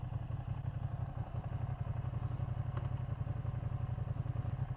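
Sport motorcycle with a quick shifter and auto blipper running steadily at mid revs, a continuous buzzing engine drone with a brief click near the middle, no talking.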